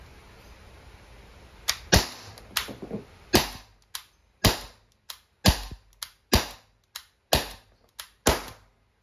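An Umarex T4E TR50 CO2-powered tactical revolver in .50 caliber fires about ten sharp, close shots in an uneven rhythm, each crack followed by a brief metallic ring, with quiet gaps between them.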